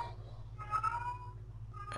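A pet cat lets out a single drawn-out meow close by, followed by a short second cry at the end, over a low steady hum in an indoor room.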